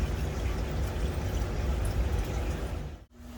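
Water pours steadily during an aquarium water change, a continuous close rushing splash that briefly cuts out near the end.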